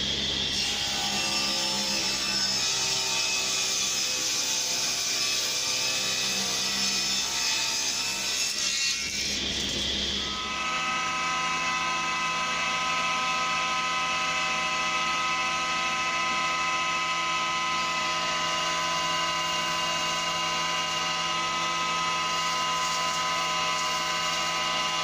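Wooden boards ripped down with a saw for kitchen shelf carcasses, a continuous loud whining cut that changes pitch around the tenth second, then settles into a steady drone, with no speech.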